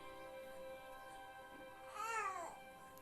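A baby babbles softly in a short, rising and falling vocal burst over a quiet background hum.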